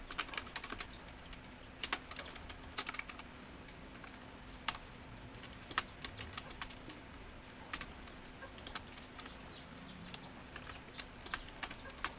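Quiet, irregular keystrokes on a computer keyboard as code is typed, with sparse clicks in short bursts and pauses over a faint steady hum, no talking.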